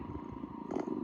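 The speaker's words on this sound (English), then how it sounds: "Cat purr." A recorded cat purr plays from an AIRIVO alarm clock with a white-noise feature: a soft, low, rhythmic rumble lasting about a second.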